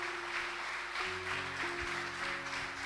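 Congregational applause in a church service, a steady wash of many hands clapping together, with sustained organ or keyboard tones running underneath throughout.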